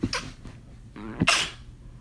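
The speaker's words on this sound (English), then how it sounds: "Hold on, I gotta sneeze." A single man sneezes after a brief sharp breath in, close and fairly loud.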